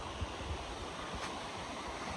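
A waterfall in Kirinyaga County, Kenya, heard as a steady broadband roar of falling water mixed with wind buffeting the microphone, continuous and fairly loud, with no voices.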